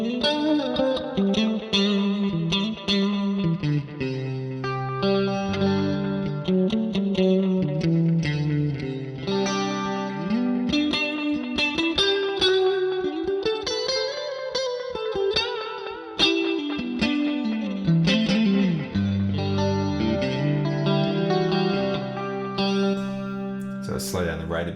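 Clean electric guitar through a Boss CE-2W chorus pedal with a gentle, shimmering chorus effect, chords and melodic phrases played continuously at a steady moderate level.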